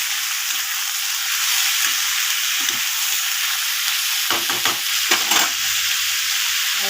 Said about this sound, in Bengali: এখন আমি আলুটা দিয়ে দিলাম।